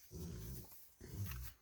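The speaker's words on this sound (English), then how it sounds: "Sorry about my dog." A dog growls in two low, rumbling bursts separated by a brief pause, faint and close indoors with no talk over it.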